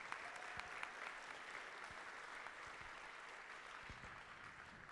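Faint, distant applause rolls steadily through a large hall at a miniature painting convention's awards for medal winners, a soft continuous wash of clapping with no break.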